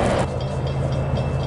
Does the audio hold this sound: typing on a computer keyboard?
no